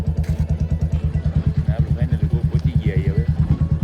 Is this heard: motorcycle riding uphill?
yes